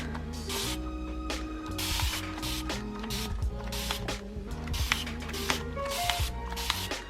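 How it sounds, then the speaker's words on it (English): Rapid bursts of spray from a trigger bottle of cleaner onto a greasy surface, around a dozen short hissing squirts in an uneven rhythm over a steady low hum. "So I'm going to spray this."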